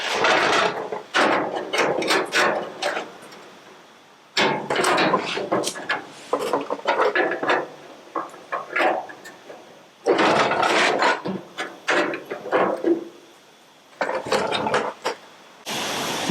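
Hammering and dressing a steel front wing patch panel for a 1969 Triumph GT6 Mk2 restoration, with repeated bursts of close, loud metallic tapping and rubbing separated by short pauses.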